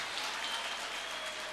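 An audience at a Tamil comic debate claps steadily, a dense and even wash of applause sounding from a distance for a brief moment.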